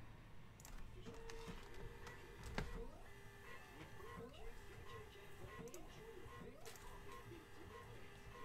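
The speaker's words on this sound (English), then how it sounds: "Let me print these guys out, labels." Label printer whirring and feeding labels at a card-breaking session, a steady mechanical hum with repeated rising motor sweeps and faint ticks.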